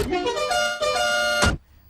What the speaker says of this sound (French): Mais à la place, j'ai acheté un nouveau klaxon.